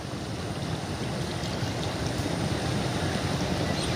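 Tidal bore surging up the Ganges river at new moon: a steady, dense roar of rushing, churning water, loud and close, with wind buffeting the microphone and no break in the flow.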